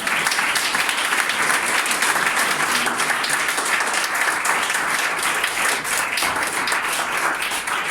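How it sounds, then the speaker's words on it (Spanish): Congregation applauding during a Wednesday evening church service, a dense, steady wash of clapping that stays loud and close for the whole stretch with no pause. "si lo va a aplaudir, apláudalo a Él"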